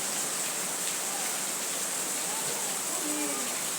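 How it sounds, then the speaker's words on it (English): Heavy rain falls with a breeze, heard from a veranda as a steady, loud hiss of water that never lets up, with faint voices and other soft sounds mixed in underneath. "I'm sitting on my veranda and I'm enjoying the rain."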